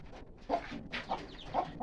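A hen clucks in short repeated bursts beside newly hatched chicks, close and fairly loud, with no one speaking.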